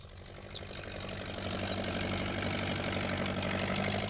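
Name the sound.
tractor engine running in cartoon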